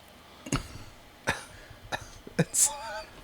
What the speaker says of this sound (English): somebody coughs in the back of the room